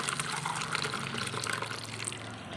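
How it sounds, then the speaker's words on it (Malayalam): Homemade beetroot and grape wine poured a little at a time through a large strainer into a vessel, a steady continuous trickle and splash of liquid close by, with no talking. "നമുക്കിത് കുറേശ്ശെ ഇങ്ങനെ ഒഴിച്ച് നമുക്കിത് അരിച്ചെടുക്കാവേ"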